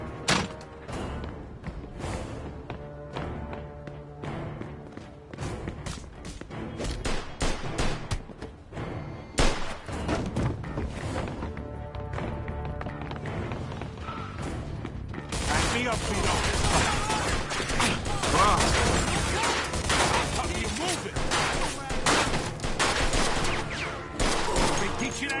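Dense, continuous gunfire in Mafia 2 Definitive Edition, a loud barrage of overlapping shots that swells into a heavier, sustained roar partway through, with game music and voices mixed underneath.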